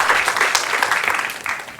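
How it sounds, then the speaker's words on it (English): An audience claps at a science communication competition, a steady dense patter of applause filling the hall for just under two seconds with no voices over it. "One more applaud."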